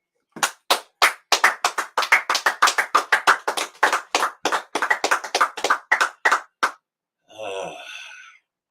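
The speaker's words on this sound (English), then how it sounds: "clap it up for the Lord" A church congregation claps in a fast, loud, even rhythm, about twenty sharp claps in a row, followed by a short burst of voice.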